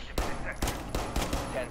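Four or five sharp, close gunshots in Rainbow Six Siege, spaced out over under two seconds, with faint background game sounds.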